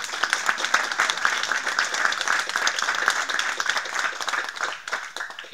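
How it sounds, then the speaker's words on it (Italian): Audience applause at the closing speech of the first International Etna Festival, a chess event, with dense steady clapping from a crowd that thins toward the end. "a cui vi prego di fare un applauso"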